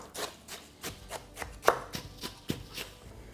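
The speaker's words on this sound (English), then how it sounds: "break up that sausage into smaller chunks and then just incorporate it with that bread" Sausage being broken up and mixed into bread for sage stuffing, a series of soft, evenly spaced thumps and pressing sounds, close and moderately quiet, with no talk.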